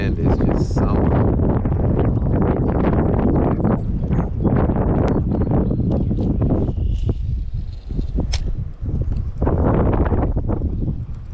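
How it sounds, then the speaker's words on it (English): Strong gusting wind buffets the microphone throughout, a loud continuous broadband roar with rustling, on open water while fishing for crappie. "Man, this wind is just something."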